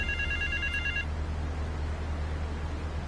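A payphone rings in the game GTA 3 Definitive Edition, a short burst of bright electronic trills for about a second, then it stops and only a low steady hum remains.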